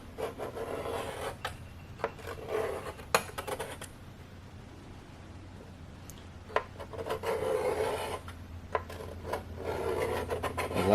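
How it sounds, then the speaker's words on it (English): A scribe scratches repeatedly around the outer edge of a 1932 dash gauge panel, a close, dry rasping that comes in short strokes with brief pauses and a louder pass near the end. "just scribe around the outer periphery of this panel"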